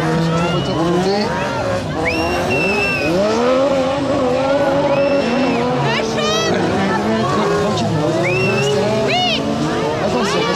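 A race car on a sprint track screams past at high revs with sweeping engine pitch changes and tyre squeal, loud and continuous, while a commentator talks throughout.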